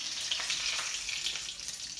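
Bay leaves sizzle in hot oil as the spices for a chicken curry begin. The frying crackles and hisses softly and steadily throughout, heard nearby and alone.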